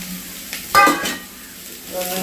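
Chopped onions hit hot oil in a pan: a sharp clatter and burst of sizzling, which then settles into a softer, steady fry close by.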